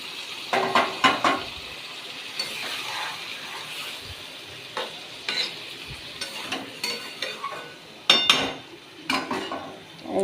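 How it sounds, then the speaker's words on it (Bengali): Fish cooking in a pan for Bengali macher jhal, a quiet sizzle under intermittent scraping and stirring clatter of a utensil against the pan, close by. "মাছটাকে দিয়ে দিয়েছি, ভালো করে একটু কষিয়ে নেব।"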